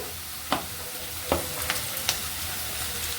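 Chopped capsicum goes into a pan of frying carrots and beans, a steady sizzle with a few sharp spatula clacks against the pan, close and without speech.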